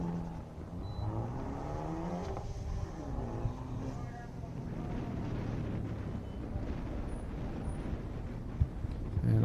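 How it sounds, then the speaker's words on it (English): A Mazda Miata on an autocross run at the St Lucie Fairgrounds, its engine rising and falling in pitch through repeated shifts and accelerations at mid distance, under wind noise and with people talking over it. "Got an instructor run going down in the Miata right now."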